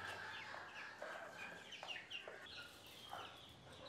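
Chickens on a farm, with many young roosters among them, cluck and call in short repeated bursts while being fed, overlapping chirps at moderate distance over steady farmyard background.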